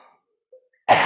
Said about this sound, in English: My cough is back.